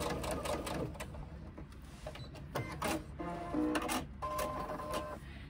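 A sewing machine stitches the folded ends of a fabric strip in short, close, rattling bursts, with small clicks and a faint tonal whir, fairly quiet overall.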